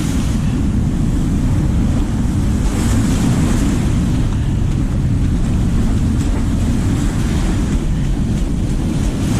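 Loud sea waves break against rocks on a rough shoreline, a dense continuous roar of surf and spray mixed with strong wind noise on the microphone, with no talking.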